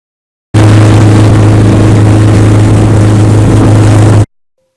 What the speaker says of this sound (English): The outboard motor pushes it at a fair rate right down under the Yaquina Bay Bridge